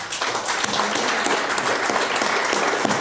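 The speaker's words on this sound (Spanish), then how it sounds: "por quien pido también un fuerte aplauso" A live audience at a cooperative book-discussion gathering breaks into steady, dense applause for Jenny Ferrer, filling the room with continuous clapping at a fairly loud level throughout.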